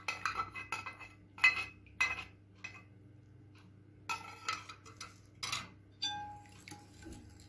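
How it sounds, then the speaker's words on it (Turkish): Melted butter and chocolate being stirred in a pot, heard as intermittent metallic scrapes and clinks of a spoon against the pot, fairly faint and close, with quiet gaps between strokes. "Tekrar karıştırıyoruz."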